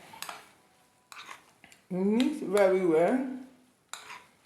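Close metallic clinks and scraping of a utensil against a pot as carrots and peppers are stirred, in short bursts with a brief voice in between.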